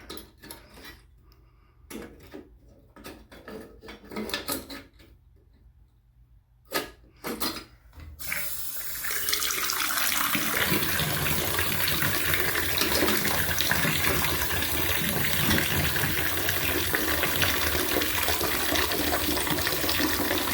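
Water gushes from a bathtub spout whose diverter fails to hold back the flow, a steady close rush after a few earlier knocks and clicks.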